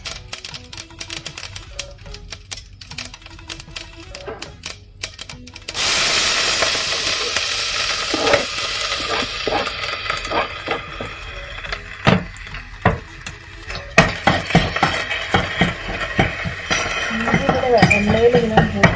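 Ginger drops into hot coconut oil with popped mustard seeds for an Onam sadya inji curry. A few taps are followed by a loud, steady sizzling hiss broken by scattered pops and crackles.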